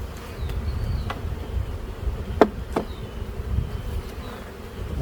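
Bees buzz in a dense, continuous drone around a swarm hive being moved, close and fairly loud, with a few sharp knocks and clicks breaking through.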